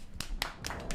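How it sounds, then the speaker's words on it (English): A few scattered hand claps sound close and fairly quiet, about four separate claps in a second with no crowd behind them. "keep the applause going"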